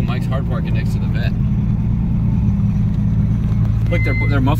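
Drift car with little or no muffler idling and revving while hard parking beside a Corvette, a loud, close, rumbling engine drone that fills the clip under people talking.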